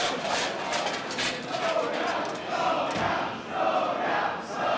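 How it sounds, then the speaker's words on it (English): An excited crowd at a live speedrun marathon event cheers and shouts together, a dense, loud roar of many voices swelling and easing in waves. "As you can hear, the crowd behind us is really excited about Pepsi Man."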